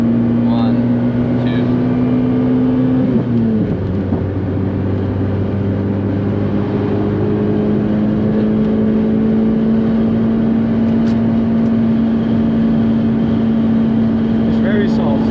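Daihatsu Copen with a five-speed gearbox lapping the Nürburgring, engine droning loud and steady in the cabin with one shift dip early on, while occupants talk over it.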